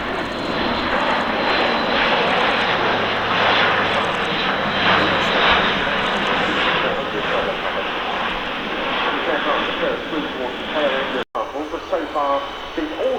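A German Airbus A400M Atlas military transport flies a tactical display at an air show, its turboprop engines roaring loudly and steadily throughout, with a commentator talking over the engine noise.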